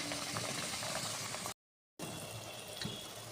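Pitha dough frying in hot oil, a steady fizzing bubble that fills the clip, broken by a short gap of silence.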